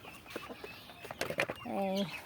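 Farm chickens cluck in a short burst near the end, a few harmonic calls close by, after scattered soft sounds and faint background voices.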